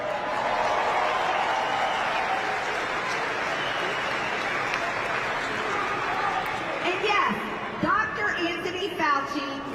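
A large crowd applauds and cheers loudly in a sustained wash of clapping, tapering off near the end as a few voices and laughter break through.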